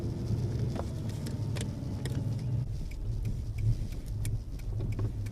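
A Nissan Laurel's engine rumbles low and steady from inside the cabin, the car having lost power, with light ticks and knocks over the drone and no talk.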